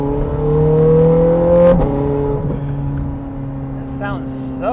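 A 2009 Ferrari 430 Scuderia engine hums steadily at moderate revs, its tone rising slightly then settling into a smooth drone, with a few clicks and faint chirps near the end.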